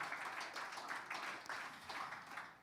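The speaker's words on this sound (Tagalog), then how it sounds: "Can we give the Lord a clap offering praise?" A church congregation clapping as a praise offering, a continuous faint wash of many hands applauding together in rolling waves, distant and soft.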